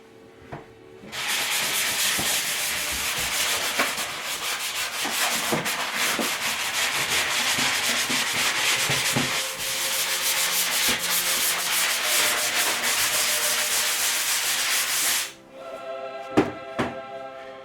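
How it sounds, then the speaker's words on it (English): Steady, scratchy sanding of drywall mud in a shower rasps on without pause for about fourteen seconds, then stops, leaving a few light knocks and taps. "Let's continue sanding."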